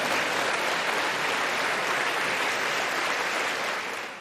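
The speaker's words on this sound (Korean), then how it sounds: "의원들은 기립해 박수로 화답하기도 했습니다" Members of the US Congress on their feet applauding a speech, a dense, even roar of clapping filling the chamber at constant loudness, easing slightly at the very end.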